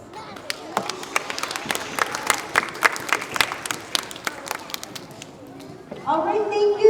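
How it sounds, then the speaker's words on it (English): An audience at a school award assembly claps in scattered, uneven bursts that fade out, followed by a voice speaking over a microphone. "And one more round of applause to all of our great attendance honorees."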